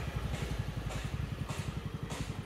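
A Yamaha Fascino 125 scooter engine running while being ridden gives a faint, even, pulsing putter with a soft recurring whoosh of passing air.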